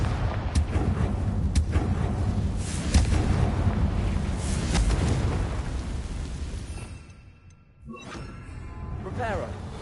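A Confringo spell explosion in Hogwarts Legacy rumbles as a heavy, sustained boom with crackling debris. It fades into near silence before quieter effects return.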